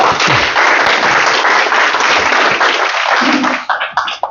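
Dense applause from an audience welcoming a speaker to a seminar, loud and steady, then tapering off into scattered claps at the end.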